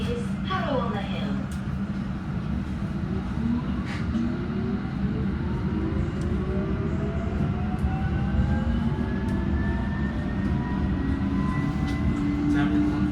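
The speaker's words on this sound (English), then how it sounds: "This is an all-stations Metropolitan Line train to Watford." A London Underground Metropolitan Line train to Watford runs between stations, a steady loud rumble of wheels and motors with rising whining tones and occasional clicks.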